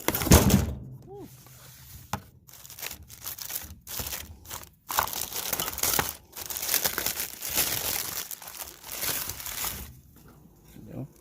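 New brake rotors for a 2011 Toyota Prius have tape peeled off them, giving close crinkly tearing and crumpling noises in uneven bursts, with a voice at times.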